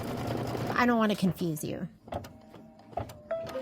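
An embroidery sewing machine stitches a quilt placement line, its motor whirring in short close bursts after a woman's brief spoken remark at the start.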